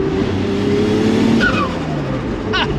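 A Ford Escort Estate fitted with a 2JZ engine pulls hard in fifth gear, a loud, sustained droning engine note from inside the car with steady road roar and faint tire noise.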